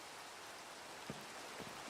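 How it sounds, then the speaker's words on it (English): Rain falls steadily in the blocky survival game Minecraft as a faint, even hiss, with a few soft patters on top and no voices. "It's raining. That's not fun."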